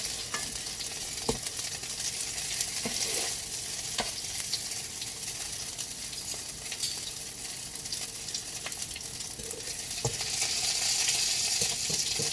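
Vegan sausages grilling in a pan with butter give a steady, dense sizzle and crackle that runs throughout, with occasional faint sharper pops and clinks, close and continuous with no talk.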